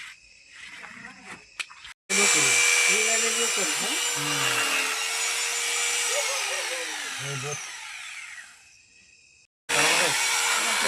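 An electric shearing machine clipping wool from sheep buzzes loudly and steadily for several seconds, a continuous whirring drone that fades slightly before cutting off, with voices talking briefly before and after.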